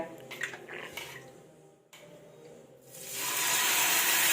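Lit stove with a hot pan hissing before rava dosa batter is poured, a steady sizzling hiss that swells loud and continuous after a brief lull, with clinks of cookware early on.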